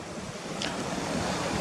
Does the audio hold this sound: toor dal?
no